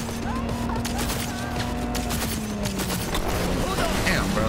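Gunfire in the video game Cyberpunk 2077: dense, continuous shooting and impacts layered with game noise and a steady hum, staying loud throughout with voices talking over it.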